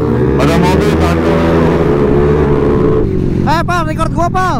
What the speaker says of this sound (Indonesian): Ada mobil satu.